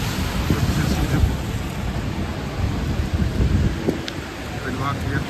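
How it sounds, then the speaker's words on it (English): Continuous hiss of steady rain falling outdoors in Shinjuku, Tokyo, with a dull low rumble beneath and faint scattered sounds of movement. "It is still raining, so non-stop since morning."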